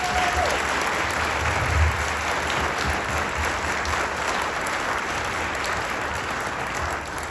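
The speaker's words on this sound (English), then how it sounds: "can we just take a moment of applause to just thank everybody who..." A crowd at a memorial event claps warmly to thank the organizers, dense continuous applause filling the room, loud and close, easing off slightly at the end.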